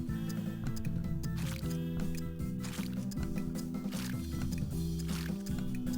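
Fast squishy stirring of nasty peppers in a SpongeBob video game cooking minigame, a continuous wet churning rhythm over a steady layered musical backdrop, no talking.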